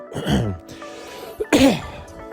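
Two close, loud bursts of coughing and throat clearing, one near the start and a harsher one shortly after a brief pause.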